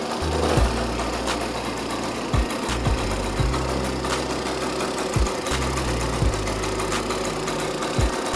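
A vintage 1972 Java 250cc motorcycle made in Czechoslovakia, a kick-started three-gear bike, idling close by with a steady, rapid two-stroke putter and periodic heavier knocks throughout.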